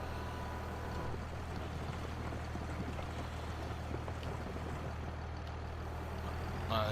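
Steady low engine drone of a tractor in a realistic farming video game set on the Adelshoven map during beet harvesting, a constant mechanical hum with rumbling texture that holds evenly throughout with no voices.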